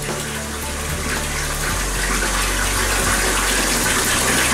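Water runs hard from a tap into a bathtub being filled for a Slime Baff bath, a loud, steady, close gushing rush with no talk over it.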